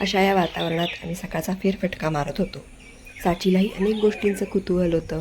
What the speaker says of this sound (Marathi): सूर्याची कोवळी किरण अंगावर पडू लागलेली शांत वातावरण त्यातच पक्ष्यांचा किलबिलाट